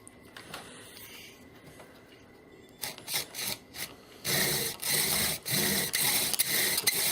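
Bow drill spindle turning under a cherry hand brace: first quiet, then a series of short rubbing strokes, followed by louder, longer rhythmic wooden friction strokes, close and alone without talk.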